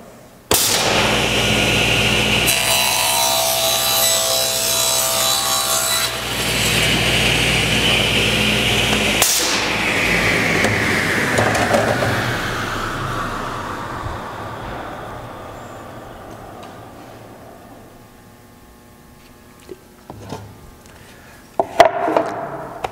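A table saw crosscuts a wooden board in a woodworking shop: a loud, close blade whine starts abruptly, drops in pitch as the wood is fed through, then spins down and fades, ending with a few sharp clunks.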